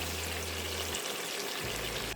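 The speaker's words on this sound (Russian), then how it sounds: "добавим немного воды." Water poured into a pan while cooking saffron-seasoned rice for Persian-style salmon, a steady close splashing stream with a low humming tone under it, briefly dropping away and then resuming.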